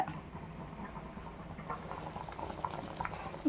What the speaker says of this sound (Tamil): சிக்கன் நல்லா வெந்து இந்த தண்ணியெல்லாம் சுண்டிடணும்.